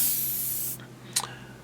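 Spray paint hisses steadily from a can onto a Tamiya 1/48 Spitfire Mk1 scale model, close and continuous, then stops abruptly. A short second burst of spray follows after a pause.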